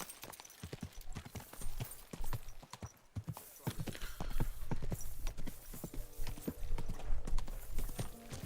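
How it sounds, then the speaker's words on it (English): Rhythmic clip-clop of horse hooves in the video game Kingdom Come: Deliverance II, a steady trotting patter that grows busier and louder partway through. "That's my horse."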